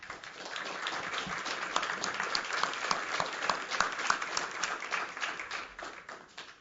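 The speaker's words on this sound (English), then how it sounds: "I never like a thunderous applause before the delivery of a speech" Audience at a property-rights talk breaks into sustained, dense applause, steady and loud throughout with many overlapping claps and no speech.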